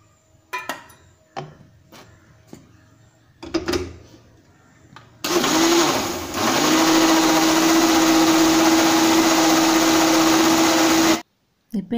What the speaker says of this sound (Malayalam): മിക്സി ഓൺ ആക്കാം.